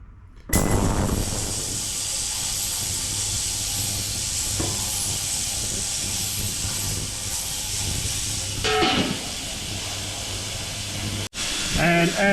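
Vevor ultrasonic parts cleaner running, a steady loud hiss with a low hum underneath, interrupted by brief clatter near the end.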